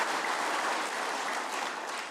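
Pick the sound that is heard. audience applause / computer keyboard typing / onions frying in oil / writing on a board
audience applause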